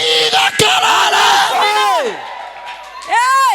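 A church congregation at a charismatic worship service shouts and yells loudly together, a dense roaring burst of raised voices that fades, then swells again at the end.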